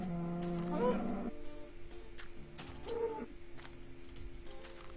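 Cow mooing in the Minecraft video game, two drawn-out low moos a couple of seconds apart, fairly loud and near, with no talk over them.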